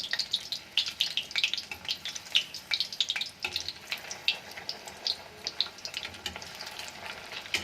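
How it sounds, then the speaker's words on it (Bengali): Egg chops sizzle steadily in hot oil in a pan, a bright, crackling fry with frequent pops and spatters running continuously at moderate volume, close by. "এইবার একে একে আমি সবগুলো এরকম করেই ভেজে নেব"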